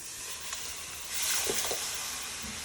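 Stock poured into a hot pan of flour for a curry sauce, giving a steady sizzle with a brief louder hiss and a few bubbling pops near the middle.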